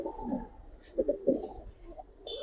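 Giribaz pigeons cooing in a loft, a few soft low throaty coos in short bursts, close and quiet with a faint higher chirp near the end.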